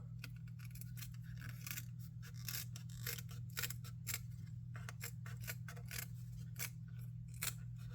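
Small Fiskars shears snipping in quick, choppy cuts, a rapid series of close, crisp metallic clicks over a low steady background hum.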